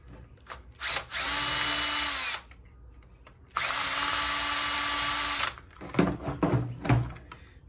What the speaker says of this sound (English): I'm going to unscrew these sockets.